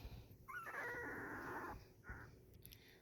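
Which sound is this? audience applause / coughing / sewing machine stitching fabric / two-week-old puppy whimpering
two-week-old puppy whimpering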